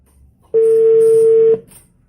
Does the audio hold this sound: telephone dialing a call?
yes